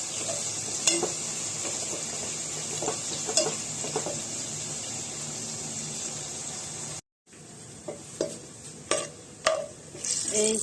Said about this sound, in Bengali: এখানে প্রথমে আমি বেরেস্তাগুলোকে ভেজে নিব